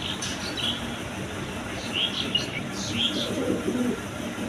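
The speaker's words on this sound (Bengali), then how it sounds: "এখানে এক পেয়ার কবুতর আছে দেখেন, আপনার টিউলিপ কবুতর" A pair of tulip pigeons sitting on eggs, cooing softly in short repeated calls over a steady background hum, fairly faint and close, with no talking.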